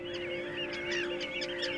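Oystercatchers defending a ground nest on the Skagerrak coast give rapid, shrill piping calls, a close, insistent series of sharp notes over a steady background hum.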